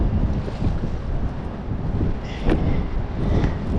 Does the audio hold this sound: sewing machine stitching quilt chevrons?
no